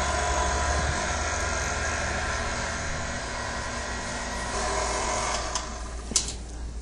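A stand mixer churns cookie dough with powdered sugar on its slow setting, a steady mechanical whir with a low hum running evenly throughout, plus a few faint clicks near the end.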